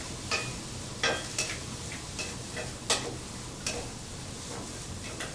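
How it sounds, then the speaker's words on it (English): Carrot, shallot and celery being stirred in a pan, a soft steady sizzle broken by a handful of sharp spoon taps and scrapes against the pan at irregular intervals. "So we have our carrot and our shallot and our celery in there, and we're just going to stir this."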